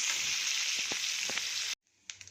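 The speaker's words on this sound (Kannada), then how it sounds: "ಚೆನ್ನಾಗಿ ಚಟಪಟ ಅಂತ ಸಿಡಿಲಿ" Tempering spices splutter and sizzle loudly in hot oil for sambar, a dense continuous crackle with scattered sharp pops, then cuts abruptly to quieter, sparser sizzling.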